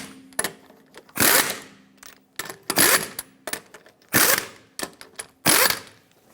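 Wheel lug nuts on a 2013-2018 Hyundai Santa Fe tightened in a cross pattern, with repeated short bursts of ratcheting wrench clicks at a steady pace, close and clear.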